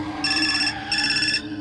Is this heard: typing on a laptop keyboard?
no